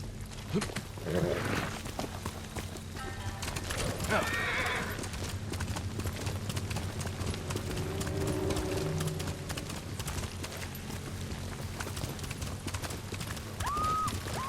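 Horse hooves clip-clop rapidly in steady galloping rhythm in the video game Ghost of Tsushima, with neighs and whinnies mixed in and voices talking over parts of the ride.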